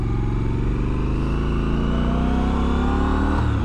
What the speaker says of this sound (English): It's got a nice sound to it. I mean, the exhaust is right near me,